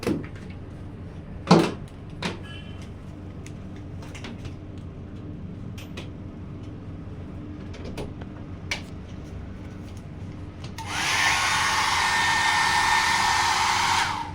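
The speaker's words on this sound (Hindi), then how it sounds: "तो स्काल्प में हमें ड्रायर नहीं लगाना, फिर बाल में जो है ना इस तरह से ड्रायर लगाना है।" Hair dryer blowing a client's hair after a haircut in a salon; after quiet handling clatter and a few knocks, the dryer switches on and roars steadily and close for the last few seconds.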